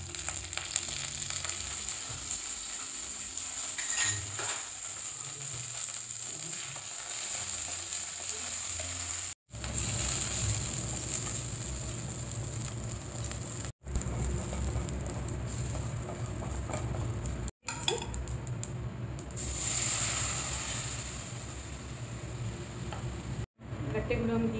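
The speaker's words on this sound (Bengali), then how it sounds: "একটু জিরা আর সরষে ফোড়ন দিলাম, একটু শুকনো লঙ্কা" Cumin, mustard seeds, dried chili and curry leaves tempering in hot oil, a loud, dense crackling sizzle with popping, broken by a few brief cuts to silence.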